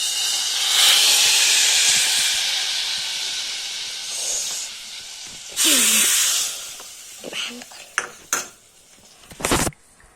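Loud hissing sizzle of a tempering added to kadhi, fading into bubbling and clattering of the pot boiling on the stove, with a few sharp metallic clinks near the end.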